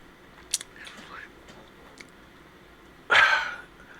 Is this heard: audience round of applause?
no